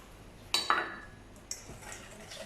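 Spoon clinking and scraping in a bowl while almond powder is mixed for a frangipane galette, with a few sharp metallic taps close by and quieter stirring between them.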